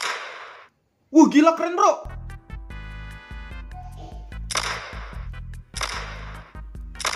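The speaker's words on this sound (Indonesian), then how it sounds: "Di sini ada senjata revolver." A revolver fires in a Siren Head addon video game, several sharp, loud cracking shots in quick succession near the end, following a short burst of speech and a stretch of low mechanical game noise.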